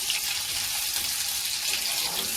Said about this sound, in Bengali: প্রথমে ছোলাটা আগে ভেজে নিই তারপরে বেগুনিটা ভাজবো